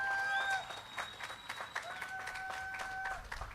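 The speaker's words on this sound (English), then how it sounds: "Big round of applause." Graduation ceremony audience applauding at a high school commencement, a moderate wash of clapping heard from a distance, fairly faint and sustained throughout.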